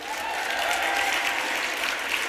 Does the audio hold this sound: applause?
yes